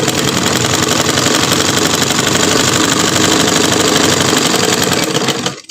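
A sewing machine stitches elastic in one loud, continuous run of rapid mechanical clatter, steady and close, that stops abruptly at the end.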